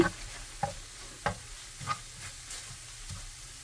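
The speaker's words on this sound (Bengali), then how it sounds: "দেখেন কত সুন্দর করে ভাজা হচ্ছে" Kimchi fried rice mixture frying in a pan, with a steady low sizzle and several soft scraping stirs at regular intervals, moderately close and without talk.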